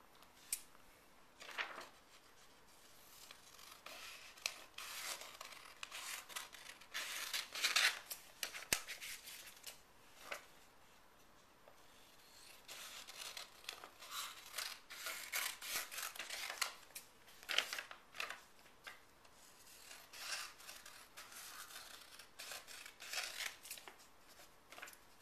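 Scissors snipping through paper to cut out a square, a long run of quiet, crisp cuts and rustles in an irregular rhythm, close and soft, with no talking.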